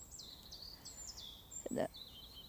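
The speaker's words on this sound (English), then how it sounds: "you hear the birds singing" Birds chirp and sing faintly in the distance in a park, in repeated high, thin phrases, with a brief low rustle or thump near the end.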